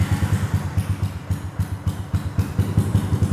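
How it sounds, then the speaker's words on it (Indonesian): Yamaha Bison motorcycle fitted with an RMDW exhaust idling up close, a loud, even, rapid low thumping pulse with a slightly rough, clattery edge, running steadily and alone. "Kira-kira suara Bison dan suara KTM mirip-mirip atau beda jauh ketika pakai knalpotnya RMDW Exhaust?"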